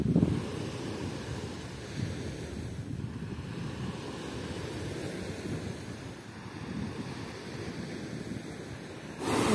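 Low, rumbling surf rolls in at an Azov Sea beach at sunset, with wind buffeting the microphone in a constant blustery roar; the waves swell and recede in slow surges, with no voices present.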